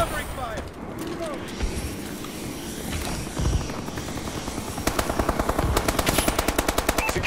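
Rapid automatic gunfire from a Call of Duty: Advanced Warfare multiplayer match, building into a dense, fast rattling burst toward the end, mixed with a droning aircraft-like hum and game announcer voice lines.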